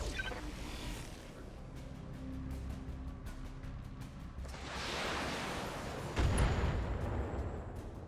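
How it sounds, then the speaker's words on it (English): Missiles fired at a vehicle in BattleTech: a rumbling salvo of launches and distant booming impacts, rolling over several seconds and swelling into a heavier blast near the end. "Might as well hit the vehicle with some missiles while we're at it."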